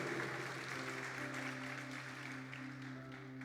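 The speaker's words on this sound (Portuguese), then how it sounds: "Você pode aplaudir o Senhor? Por favor, faça isso com alegria." Worshippers at an afternoon church service clap together, a soft, even wash of applause heard at a distance over a sustained low organ-like hum.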